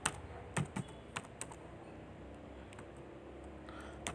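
Someone types on a computer keyboard while entering JavaScript code: a handful of sharp, close keystrokes, some in quick pairs, separated by short pauses over a quiet room background.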